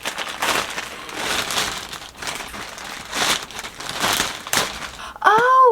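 Crinkly plastic rustling and crumpling as a soft mailer bag containing books is handled and pulled open, steady and close, ending in a brief sharp squeaky rip.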